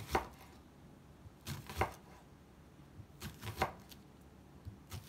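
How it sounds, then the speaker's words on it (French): A knife cuts an onion into rings on a board, giving paired crisp chopping strokes in a few quick bursts, close and quiet, with no talking. "Maintenant, je passe à l'oignon et on le coupe en rondelles"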